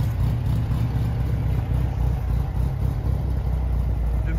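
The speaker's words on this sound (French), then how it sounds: "avec son moteur 1300 cm3 qui est tout à fait suffisant pour ce type d'utilisation" A 1972 Volkswagen Beetle with a 1300 cc engine runs steadily nearby, a continuous low mechanical drone with no talk over it.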